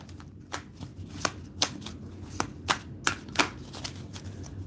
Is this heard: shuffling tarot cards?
yes